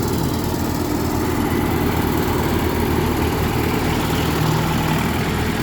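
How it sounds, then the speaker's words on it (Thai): A farm tractor engine runs at a steady drone during road work to lay stone on a farm road. The rumble is continuous and fairly loud and close, with no talking. "ขับรถไถไปก่อน"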